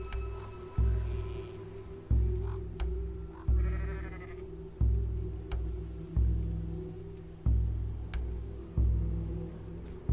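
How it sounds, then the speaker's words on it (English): A sheep in a video game bleats repeatedly in a steady rhythm, each call evenly spaced and fairly loud, with faint higher-pitched clicks and tones in the background. "We can see a sheep on its back, seemingly cursed or something not right"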